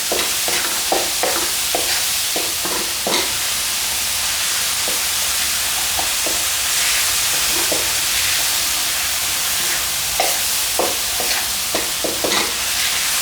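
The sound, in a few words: stir-frying salt and pepper chicken wings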